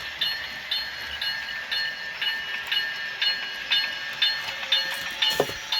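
An HO scale model locomotive fitted with a sound decoder runs steadily, giving a rhythmic series of chuffs and clicks over a constant hiss, with a brief clunk near the end and no talking.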